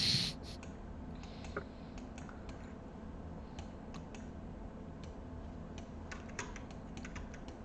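Keyboard keys and a mouse click in a quiet room, a steady run of light, close taps and ticks with a few sharper clicks, over faint background hum.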